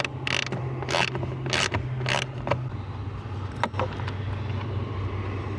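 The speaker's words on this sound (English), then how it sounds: "An 8mm socket on a wrench with like a flexible handle is perfect for getting this one out." An 8mm hex socket on a flexible-handle wrench ratchets out a blower screw on a Honda CR-Z, four loud rasping clicks in a row followed by a few lighter taps and creaks up close.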